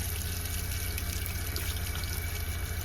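Hot water runs steadily from a tap in an RV after a Precision Temp TwinTemp Junior water heater was drained, flushed and refilled, a continuous close hiss and gush with no pauses.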